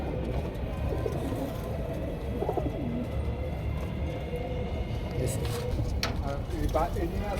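Pigeons coo repeatedly in a loft on a pigeon farm, a steady bed of soft throaty calls with occasional flutters, heard under someone talking close by.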